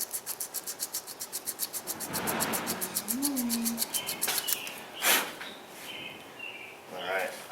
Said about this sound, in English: Why am I using a piece of sandpaper when I got sweet air tools?